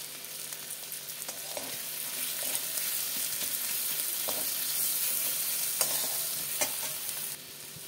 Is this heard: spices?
yes